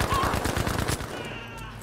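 Dense bursts of rapid automatic gunfire from a World War II shooter game, loud and close at first, then thinning into fainter scattered shots with a lingering tail.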